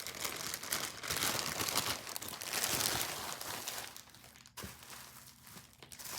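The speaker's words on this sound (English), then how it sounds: "So, taking her out the bag now" A wig is pulled from a plastic bag, with close, continuous crinkling and rustling of the plastic that eases off and is followed by a few sharper crackles, with no talking.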